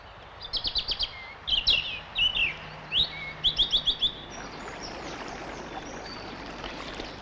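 Birds in a nature reserve chirp in quick bursts of short, high tweets repeating over the first few seconds, fairly close, before a soft running-water hiss carries on alone.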